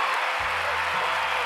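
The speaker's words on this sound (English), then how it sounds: "give another round of applause to the fabulous Susan Dynner." A talk show studio audience applauds a guest in a short, dense wash of clapping and crowd noise, with a low hum beneath.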